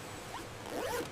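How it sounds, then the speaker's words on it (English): Zipper on a leather product pulled open in a quality test at a leather goods factory, a close, quick rasping slide lasting about a second with no talk. "Test the zip."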